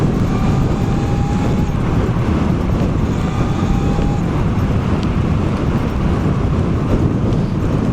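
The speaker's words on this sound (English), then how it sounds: "Windy, man." Outdoor wind buffets the microphone during an MX4 motorbike ride, a loud, unbroken roar that fills the whole stretch without a pause.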